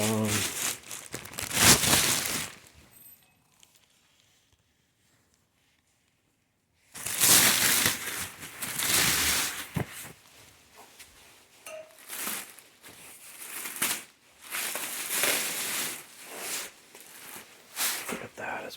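Loud crinkling of a plastic bag in bursts, stopping briefly into near silence before resuming, with a voice talking over parts of it.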